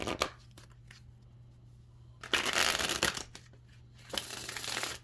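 Playing cards are shuffled close by in a few quick riffling bursts, separated by brief pauses with a faint hum underneath.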